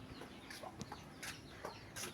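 Chickens cluck softly in a handful of short, separate bursts spread over two seconds, faint and fairly distant, with no voices.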